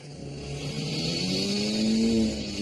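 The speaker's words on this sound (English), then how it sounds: "Listen to the rev of the engine and the smoke coming off of it." A stick-shift car engine revs hard, its pitch climbing steadily and then holding high before dropping back, a close, moderately loud strained whine with no talking.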